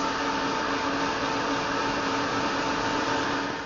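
A hair dryer blows on a freshly painted art journal page, a steady close whooshing roar that holds even and unbroken from start to finish with no talking.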